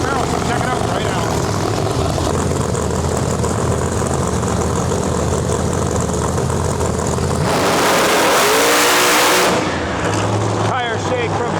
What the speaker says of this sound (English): That Tech Corvette from Puerto Rico going up in our lane